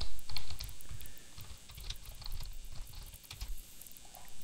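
Rapid clicking of computer keyboard keys while working in DaVinci Resolve, a close, steady patter of light taps with no voice over it.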